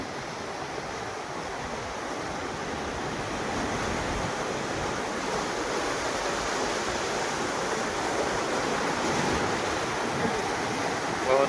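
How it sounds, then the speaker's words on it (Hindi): The flooded Banas river surges below the Bisalpur dam with six gates open, a dense, continuous roar of rushing water that holds steady and loud throughout, with wind buffeting the microphone. "बहुत ज़बरदस्त पानी की आवक। बहुत ही शानदार नज़ारा बनास नदी का।"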